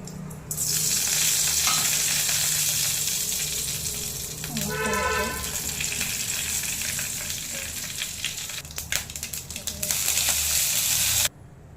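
Mustard seeds and cumin sizzle and crackle in hot oil or ghee as a tempering for gooseberry rasam, a loud, continuous frying hiss with scattered pops and some stirring, ending abruptly.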